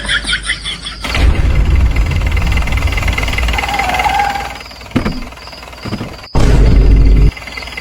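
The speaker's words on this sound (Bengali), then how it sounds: "এত রাতে গাড়ির আওয়াজ কিসের?" A car engine rumbles loudly at night, a steady low drone with a few knocks and a brief surge near the end, heard alone without talk.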